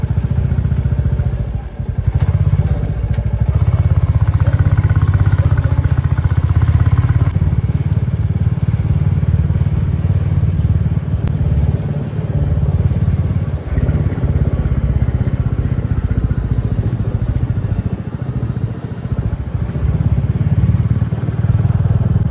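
A black 2025 Royal Enfield Bullet 350 Battalion motorcycle being ridden on a hill road near Hosur, with a steady, loud, low engine thump and some wind rumble throughout, no talking.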